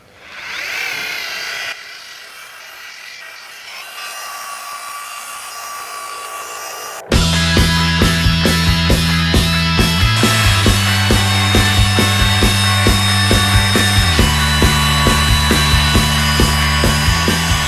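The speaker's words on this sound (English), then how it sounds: "This is a little rotary." A small rotary polisher works polish over a painted carbon fibre hood, starting with a softer whir before rising into a loud, steady motor drone with a rhythmic pulsing that continues to the end.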